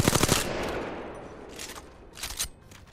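Gunfire from high-recoil weapons in the video game Apex Legends, a loud rapid burst at the start followed by two shorter bursts of shots, close and sharp over a low hum.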